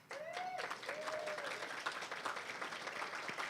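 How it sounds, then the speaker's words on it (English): Audience applause fills a benefit luncheon room, steady dense clapping from start to finish with a few whoops or voices briefly rising above it. "Give them a round of applause"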